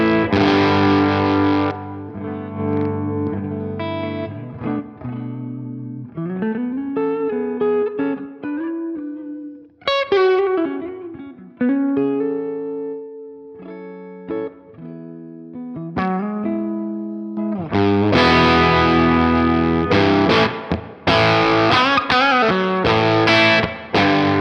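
A semi-hollow electric guitar, an alternative to the Gibson ES-335, plays through distortion and chorus effects, with ringing chords, single-note runs, sustained notes and pauses before loud strummed passages at the end, with no talking.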